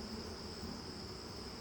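Honeybees on a brood frame in an open hive with a queen and a newly emerging bee nearby, giving off a steady, dense insect drone that holds evenly throughout without pause.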